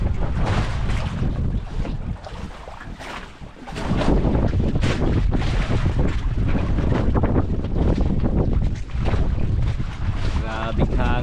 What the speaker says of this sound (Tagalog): Grabing hangin oy.